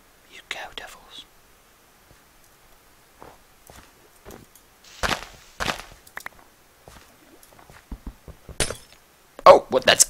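Ice blocks being broken in Minecraft, with short sharp cracking and clinking bursts scattered between near-silence and quiet whispered talk.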